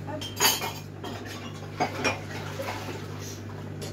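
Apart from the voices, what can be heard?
washing a saucepan in the sink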